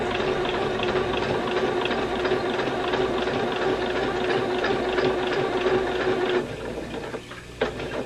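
Loud, continuous sewing machine run through blizzard fleece, a few back stitches and then a straight seam, its dense rattling hum steady for about six seconds before dropping off to quieter handling noise.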